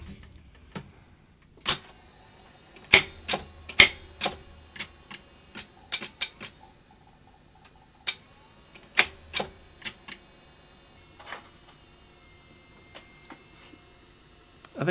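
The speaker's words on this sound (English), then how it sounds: "Should be able to get it to attempt a lace up actually without tape in there" A Philips N1502 VCR in the N1500 format, with no tape loaded, trying to lace up and apparently stalled by a failed gearbox: a string of sharp mechanical clicks and clacks in irregular bursts, with faint motor whirs between them, close and isolated.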